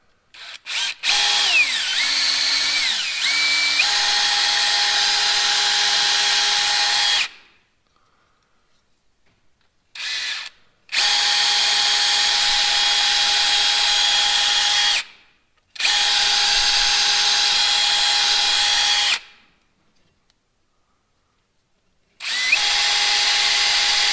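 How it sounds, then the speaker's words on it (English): A power drill runs a bit through a Ford Taurus fuel filler neck in several loud, steady bursts of whining motor, each cut by short silent pauses. "So I'm just going to run the drill bit through here."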